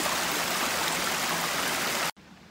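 Cold running stream water flowing over icy rocks in winter, a steady broadband rush that holds evenly for about two seconds before cutting off abruptly to near silence.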